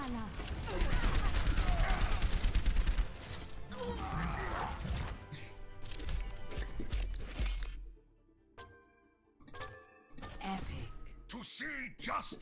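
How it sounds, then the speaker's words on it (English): Rapid gunfire and clattering impacts in an Overwatch esports match, dense bursts of shots and effects under excited caster commentary, dropping briefly quieter before more sharp hits. "Shooting invisible targets."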